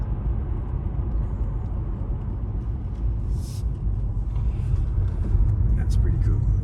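A car drives along narrow, winding mountain roads, its engine and tyre rumble steady and close throughout, growing slightly louder toward the end, with people talking inside the cabin.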